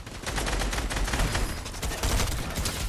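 AK rifle firing in a gun-game match of a video game, a dense continuous stream of loud, close automatic gunfire.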